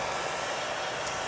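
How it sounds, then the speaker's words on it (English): A hair dryer blows nearby in a steady, even whoosh, running loud and unbroken for about a second. "just going to get a hair dryer"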